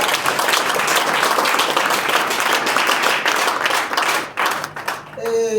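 Dense, loud applause from an audience at an evening product training session welcoming the trainer, steady clapping throughout before fading into a brief pause and a voice at the end.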